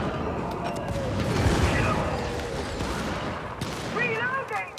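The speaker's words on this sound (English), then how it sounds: "Good rail cannon strike." A rail cannon strike explodes in a multiplayer war game, a dense roll of booming blasts and gunfire swelling loud near the middle and easing off, with game chatter and a brief whistling tone near the end.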